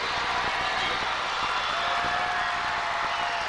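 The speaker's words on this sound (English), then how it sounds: "The roar of the crowd signals their approval to what Jim Hopkins and the Oceana Indians have accomplished this afternoon" A crowd roars at a 1994 Class AA high school basketball state championship, a dense, steady wall of cheering that holds loud and unbroken from start to finish.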